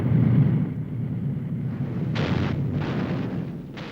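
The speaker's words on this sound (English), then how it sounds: "The indiscriminate explosions caused by the flying bombs instilled fear in the hearts of the general public." V-1 flying bomb explosions from 1944, a deep rumbling roar with a few sharper bursts layered over it, loud and sustained with no talk.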